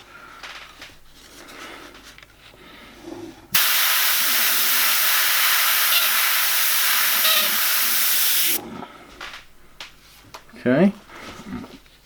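An airbrush sprays paint in one continuous, loud hiss lasting about five seconds, with quiet talk before and after it.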